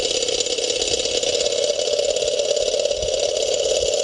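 Solar powered, hydrogen assisted Stirling engine running steadily with a constant mechanical hum and a high whine, close and continuous, with no speech.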